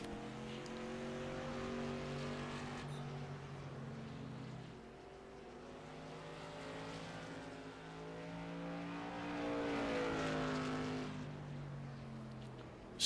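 Race cars lapping Langley race track during a fundraiser practice session, engines droning with harmonic whine that rises and falls as cars pass, one approaching louder near the end, steady and moderately distant.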